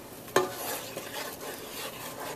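A spoon stirs pre-made saag paneer in a pan, with one sharp clink of utensil on metal followed by soft scraping and a light sizzle.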